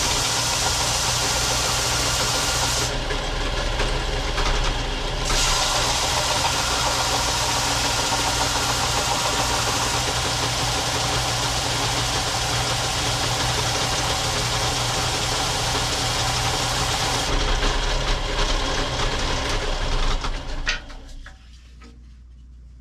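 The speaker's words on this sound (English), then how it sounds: "We'll run it on that belt sander real quick to get rid of the burnt part and make it nice and flat." A belt sander smooths a burnt spot flat on a wooden toy dump truck frame part. Its motor runs with a loud, continuous drone, then winds down and cuts off near the end.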